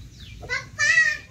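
A big three-kilo farm rooster gives two short, harmonic clucking calls close by, the second one louder and longer, over a low background rumble.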